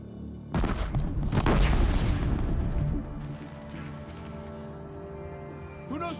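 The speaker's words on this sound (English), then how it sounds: "Gotta just put a bomb right here on the wall." A bomb planted on a wall blows up in a video game, giving a loud booming blast with crashing debris that fades into a lower rumble. Game music runs underneath, and a bright chime sounds at the end.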